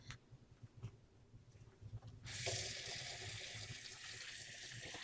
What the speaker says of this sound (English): now I'm going to flush this tap for 10 minutes